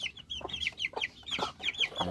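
Chicks of a Filipino backyard flock chirp and cluck in a steady run of short, high calls, several birds close by with small pauses between bursts, no talk over them.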